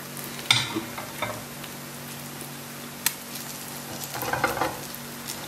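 Bubble and squeak, a British fry-up of leftover potatoes, sizzles quietly in a pan, with a few stirring scrapes and a brighter burst of crackle near the end.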